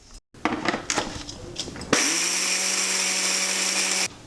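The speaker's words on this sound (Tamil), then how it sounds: "இப்போது நம்ம எடுத்து வச்சுக்கிற இந்த கடுகு மெஞ்சத்தை மிக்சியில் போட்டு அரைக்க போகிறோம்." Mustard seeds and fenugreek rattle, then a mixer grinder roars into a loud, steady whine for about two seconds before cutting off abruptly.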